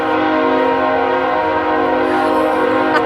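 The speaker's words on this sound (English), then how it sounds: "Train's coming." A train horn blares in a long, steady, loud tone, with the rumble of a passing train underneath.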